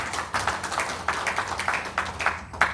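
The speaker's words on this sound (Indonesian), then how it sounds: "Tepuk tangan dong" Scattered audience clapping at a motivational talk in Indonesia, a handful of uneven claps building in short bursts, fairly close and moderately loud with no talk over it.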